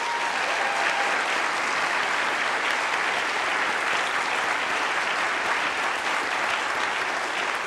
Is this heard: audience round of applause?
yes